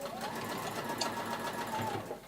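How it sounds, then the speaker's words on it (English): A sewing machine stitching a drawstring channel, running in one steady, fairly quiet continuous whir for a couple of seconds. "We've done that first layer of stitching"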